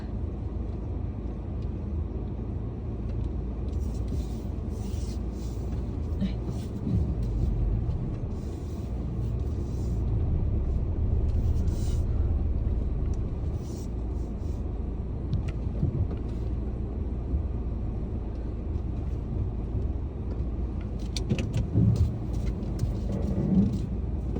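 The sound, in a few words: car driving out of a parking lot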